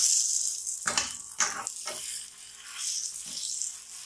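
Naan with oil cooks on a hot tawa, giving a soft hiss with several short sputtering bursts that rise and fade; fairly quiet and close, with no talking.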